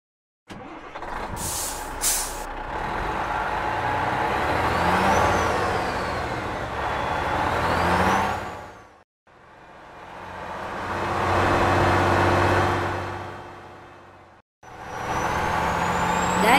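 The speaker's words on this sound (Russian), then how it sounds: "Увезем на самосвале." Cartoon dump truck engine rumbling loudly for most of the stretch, with a hiss like air brakes near the start, a brief dip to near silence around the middle, and the engine droning on again after another short gap.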